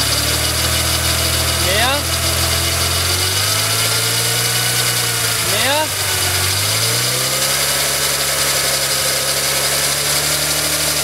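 A motorcycle engine idles steadily and loudly close by, with two brief revving rises of pitch, while a voice speaks short words over it.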